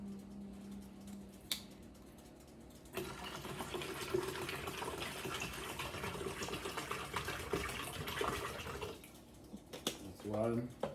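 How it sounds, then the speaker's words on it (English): Several buckets of water poured out one after another while cooking outdoors on a rainy day, a steady broadband splashing rush lasting several seconds, with brief quieter handling noises before and after and a voice near the end. "I'm gonna use like 4 or 5 buckets of water."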